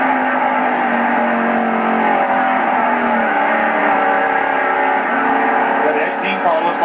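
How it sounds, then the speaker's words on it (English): A race car engine roars at full throttle at Talladega in 1995, a loud sustained high-pitched drone with shifting pitch, while a commentator talks over it. "You can hear that motor wide open."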